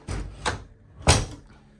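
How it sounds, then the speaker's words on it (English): A door in a historic house is closed, giving three short knocks and thuds, with the last one the heaviest, heard near and alone. "Close the door."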